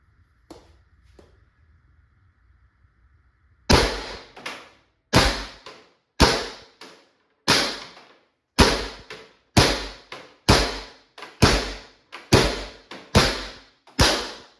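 A First Strike FSC less-lethal launcher is fired rapidly, about a dozen sharp, loud pops at a steady, quick rhythm, each followed by a short decaying ring, after a few faint handling clicks.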